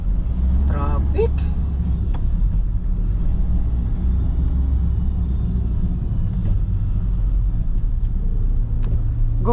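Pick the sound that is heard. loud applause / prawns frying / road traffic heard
road traffic heard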